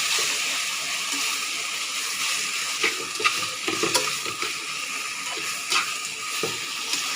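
Grated pineapple sizzles in hot oil tempered with black mustard seeds while being cooked into a chutney: a steady hissing fry with occasional stirring scrapes and small clicks, close by, with no talk.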